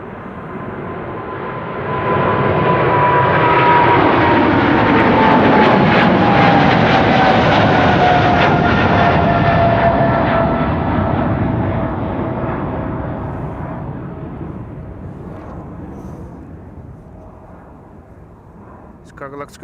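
An airliner's jet engines at Amsterdam Schiphol Airport swell into a loud, broad roar that peaks in the middle, then slowly fades as the plane passes, with a whining tone gliding downward, while a person talks over it.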